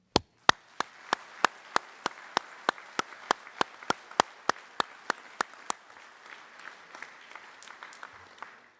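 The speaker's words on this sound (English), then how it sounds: "Let's give a big round of applause to your outstanding cadre and those who have gotten you to this point." A single person claps loudly and steadily at close range for the ROTC cadre at a commissioning ceremony, with a faint crowd applauding underneath. The near claps stop midway and the distant applause fades out.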